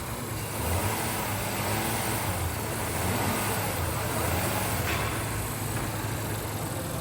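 A 2018 Acura MDX engine holds a raised rev near 3,000 RPM during a coolant flush, a loud, steady drone that stays constant throughout without voices.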